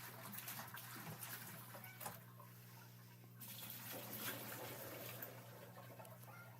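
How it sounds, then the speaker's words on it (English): Gold leach liquid is poured from a bucket through a pre-filter, a steady close splashing and trickling stream that thins briefly midway before resuming, with a low hum underneath and no speech. "Pour it through the pre-filter."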